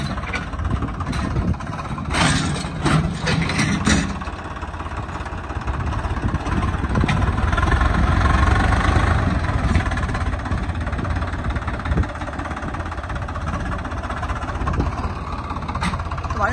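A tractor's diesel engine runs steadily with a low, continuous rumble that holds fairly loud throughout, with a voice talking over it at times.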